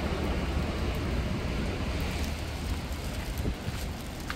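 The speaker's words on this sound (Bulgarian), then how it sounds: "Дъжда." Rain on a stormy day by the sea in Busan, a dense, even hiss that fills the whole clip at moderate level, with no voices heard.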